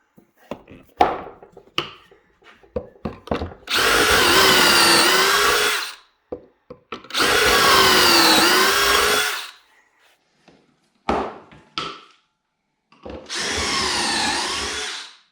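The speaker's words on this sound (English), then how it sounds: "drill your holes." A power drill bores pocket holes into cabinet wood, with three sustained bursts of a couple of seconds each, separated by short clicks and handling knocks, loud and close.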